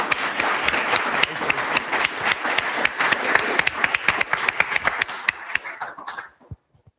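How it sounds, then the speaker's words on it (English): An audience at a student empowerment event claps in a dense burst that thins out into a few scattered claps and stops near the end, heard close and fairly loud. "Yes, please clap."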